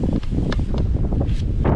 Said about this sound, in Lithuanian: vėjas tai įspūdingas, net savęs negirdžiu, ką aš kalbu